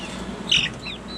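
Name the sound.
meat chickens clucking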